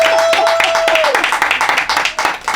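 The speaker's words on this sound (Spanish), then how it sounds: "Un aplauso." A live studio audience on a Spanish-language talk show breaks into close, lively applause and rhythmic clapping, with a brief tone fading early and a voice speaking over the clapping.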